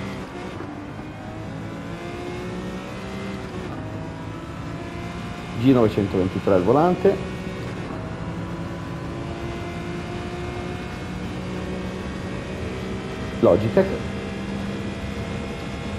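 A Ferrari 250 GTO engine in a racing video game hums steadily in the background while someone talks over it, with a couple of short louder bursts.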